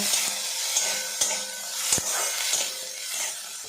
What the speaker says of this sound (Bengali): একসঙ্গে নাড়াচাড়া করে ভাজা ভাজা করে নেব।